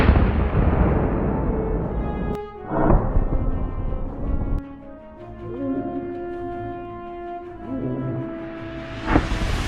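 A hunting rifle is fired at a wild boar in the woods; a loud blast at the start fades into echo, followed by a couple of sharp cracks and tonal sounds in the background.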